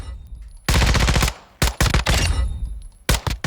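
Automatic rifle fire on a firing range in Call of Duty Modern Warfare II, with loud sustained bursts broken by short pauses, then a final short burst, heard alone with no talk.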